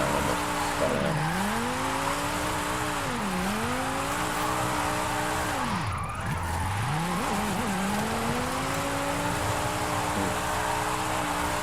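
A car drifting in Forza Horizon 5 holds one loud, continuous engine whine that sweeps down and back up several times as it slides. Tire squeal runs under the engine on a stretch of road with a patch of dirt, with no talk.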